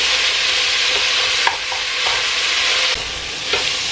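Vegetables browning in a pan for paleo AIP minestrone, stirred with a spatula: a constant close sizzle with a few scraping strokes at intervals and no talking.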